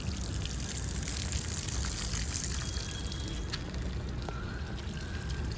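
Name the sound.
water draining through holes in a bucket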